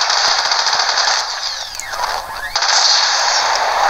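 Rapid gunfire and grenade blasts from the video game Resistance: Burning Skies, played on hard difficulty, form a dense, loud and continuous burst of combat noise with sweeping whooshes in the middle.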